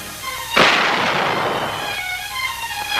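Artillery fire from a Japanese military academy gun course: one loud, sharp blast lands about half a second in, followed by a long rumbling decay and a lingering hiss, with no talking.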